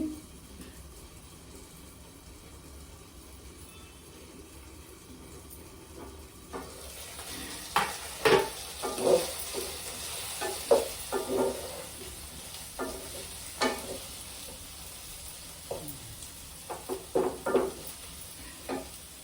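Tomato gravy with curry leaves sizzling in a pan, quiet at first, then a series of sharp spattering crackles and stirring scrapes in the later half, with no talking.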